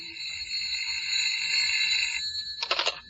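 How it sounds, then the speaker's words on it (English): Old-fashioned telephone bell ringing in a 1940s radio drama, a bright, sustained electric ring that stops after about two seconds and is followed by a short rattling clatter, close and clear with no talk over it. "I was suddenly startled to attention by the ringing of my phone."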